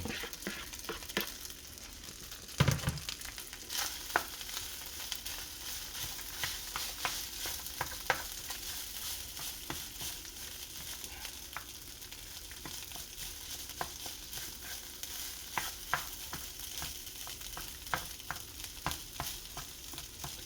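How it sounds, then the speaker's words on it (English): Day-old rice stir-frying in oil in a pan for shrimp fried rice, a steady close sizzle with frequent scraping and stirring knocks throughout. "Okay, we got some oil in our pan. We're gonna get this rice in here."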